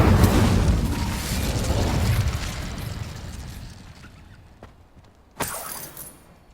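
A fiery spell blast in a Hogwarts Legacy game bursts loudly and roars away over about four seconds, followed by a sharp magical crack near the end, with no talk.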